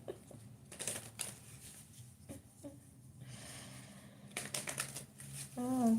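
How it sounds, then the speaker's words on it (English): Small playing cards being flipped and shuffled, giving quiet bursts of crisp riffling clicks and flutters in short clusters, close and soft. "Could you stop flipping your cards?"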